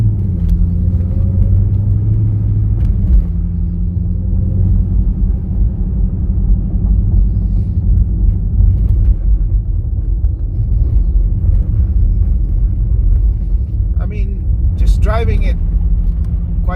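A Dodge Hellcat rumbles with a heavy low engine drone as its wheels spin in slush on ice, steady and loud from inside the car, with a voice talking over it.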